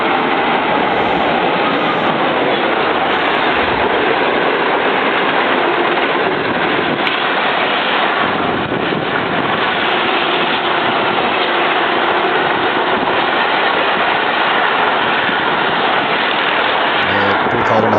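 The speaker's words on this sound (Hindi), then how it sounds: "ये 6205 18 डाउन मिल्लत एक्सप्रेस है।" The Millat Express, a 6205 18 Down service, rolls along railway tracks with a loud, continuous rumble and rattle of wagons and a steady engine drone that persists throughout, close to the listener.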